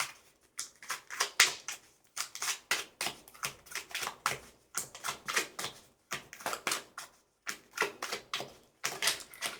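Tarot cards are shuffled by hand in quick rhythmic bursts of crisp papery flicking, each lasting under a second with short pauses between them, close and fairly quiet, with no talking.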